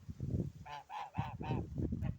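Several geese honk close by in a quick series of nasal calls, mixed with low gabbling noises between them.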